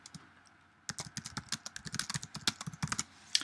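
Quick bursts of computer keyboard typing as a WordPress post title is entered, starting after a near-silent second and continuing as irregular clicks that grow denser and louder, with no one speaking.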